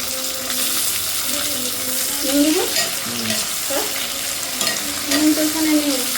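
Chopped tomato hisses and sizzles in a hot pan for a Bengali-style fish curry, with a spoon stirring and scraping now and then through a continuous close frying noise.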